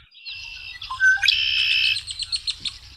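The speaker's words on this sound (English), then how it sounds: "I hear some ducks and some probably uh, Canada geese back there too" Bright calls from ducks, Canada geese and warblers ring out with a rising whistle, then a rapid series of short calls over a faint low rumble.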